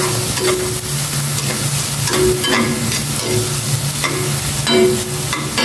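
Rice being stir-fried with a little soy sauce in a pan: steady sizzling and frying hiss, broken by repeated scraping stirs of a spatula at irregular intervals, close and fairly loud with no talking.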